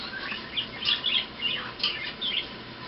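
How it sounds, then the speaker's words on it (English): Budgies chirping and squawking in a rapid, irregular chatter of short bright calls, close by and fairly loud with no talking. "You hear them crazy budgies?"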